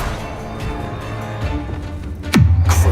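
Bombarda explosion spell in Hogwarts Legacy: a single loud, sudden blast with a deep, booming low-end tail, rising out of steady game ambience and close at hand.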